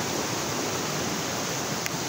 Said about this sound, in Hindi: ये उसी चश्मे का पानी आ रहा है, इन दरख्तों के नीचे आप देख सकते होंगे।